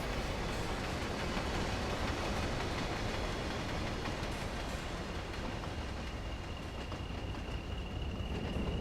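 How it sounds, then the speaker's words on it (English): Class 20 locomotive hauling steel wagons in Train Sim World 2, a continuous loud rumble of rolling wagons and engine noise with faint clatter and no talk. "these are steel wagons that we're pulling."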